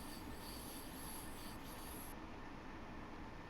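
A green train running in toward its terminus at Garmisch-Partenkirchen, wheels squealing continuously with high tones over steady rolling rumble, close and loud throughout.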